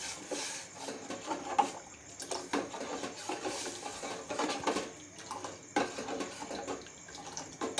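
Water pours into a cooking pot on the stove while a vegetable dish is being made, a steady soft splashing stream heard close up, fairly quiet, with no talking.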